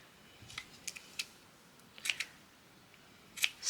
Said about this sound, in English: Snip those little bits off.